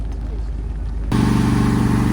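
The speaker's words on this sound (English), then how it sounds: "5-liter Coyote V8." A Ford Mustang's 5-liter Coyote V8 rumbles at an outdoor American car show, a deep low throb that suddenly grows louder and fuller partway through, close and continuous.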